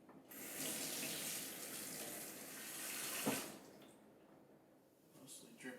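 Fish rinsed under a running kitchen tap: a steady, close hiss of water splashing into a sink for several seconds, with a brief clunk partway through before the flow softens and thins.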